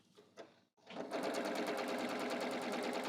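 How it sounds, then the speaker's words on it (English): A sewing machine sews a pant in-seam, starting after a short pause and then running as a fast steady stitching buzz, close and continuous to the end. "Now we're sewing a curve"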